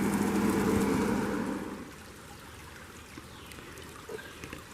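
Rain falls steadily on a raised-bed container garden, a soft continuous patter that is louder at first and then settles to a gentle wash.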